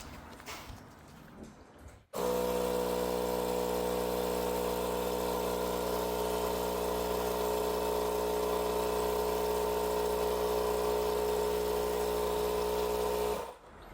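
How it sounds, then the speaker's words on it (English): A sediment-buster transfer pump starts abruptly and runs for about eleven seconds with a steady, loud mechanical hum and a strong tonal drone, then cuts off; faint handling noise before it starts. "I hear something at the transfer pump"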